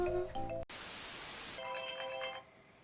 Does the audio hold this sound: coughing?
no